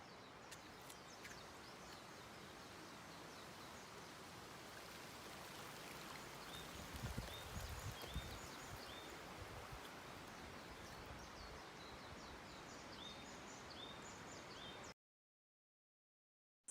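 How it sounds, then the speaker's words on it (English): Light rain falling on lily pads in a pond in Japan's Chugoku and Shikoku region, a soft steady patter of drops with faint bird chirps above, even and gentle throughout before ending abruptly. "you sent me a short video of rain on the lily pads"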